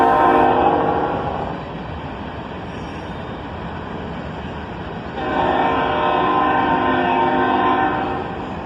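A long freight train led by a three-locomotive lash-up rolls past close by, its horn blaring in two long blasts with a steady rumble of wagons in between.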